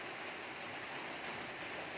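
Light rain falls as a steady, soft, even hiss throughout, faint and unbroken, with no voices.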